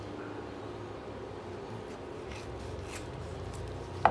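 A knife slices through tender smoked pork spare ribs coated in a dry rub, a soft, faint scraping and crunching close up, ending in a sharp little click.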